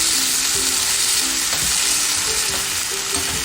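Green chili sauce, soy sauce and tomato ketchup being stirred in a hot frying pan for paneer chilli, loud continuous sizzling with rhythmic scraping strokes of a spoon.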